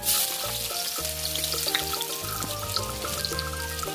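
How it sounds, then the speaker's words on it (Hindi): Chopped onions drop into hot oil for a fish curry and fry with a steady, bright crackling sizzle. Tuneful background music plays throughout. "तेल गरम हेगला एबे पियाज छाड़िया"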